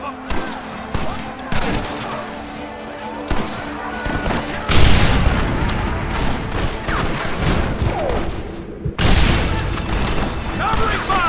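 Gunfire in the western video game Red Dead Redemption, with scattered shots giving way to heavy, sustained volleys of firing around 5 and 9 seconds, with voices shouting in the fight.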